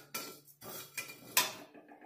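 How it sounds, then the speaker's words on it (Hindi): Tomato pickle being stirred and fried in a pan, heard as a few separate scraping, clattering strokes of a utensil against the pan, close and moderately loud, with short pauses between them. "इसे मैं अच्छी तरह से चला लूंगी और भून लूंगी"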